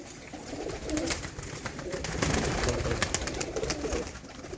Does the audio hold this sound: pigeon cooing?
yes